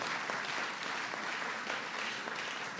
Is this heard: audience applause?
yes